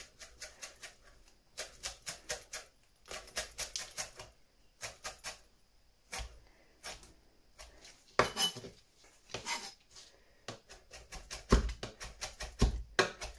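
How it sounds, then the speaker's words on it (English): A knife finely chopping fresh mint on a board, with quick bursts of crisp tapping strikes broken by short pauses. The chopping is close and steady throughout, with no talk. "we are just going to finely chop the mint"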